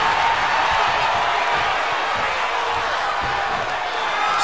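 A wrestling arena crowd roars steadily throughout. The cheering is loud and sustained, with scattered claps and shouts mixed into the dense wash of noise.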